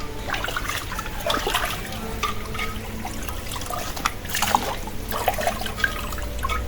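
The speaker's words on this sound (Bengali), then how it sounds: "মাছটা আমার কাটা হয়ে গেছে এখন সুন্দর করে পরিষ্কার করে ধুয়ে নিই" Cut fish being washed under running water: a continuous splashing trickle with rattling and sloshing as the pieces are rinsed, close and fairly loud throughout, with no talking.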